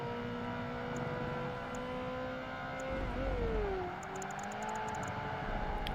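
A Ferrari 360 convertible engine in the Project Gotham Racing 2 racing game holds a steady, smooth drone at moderate volume, its pitch dipping briefly and then climbing again as the car works through a corner.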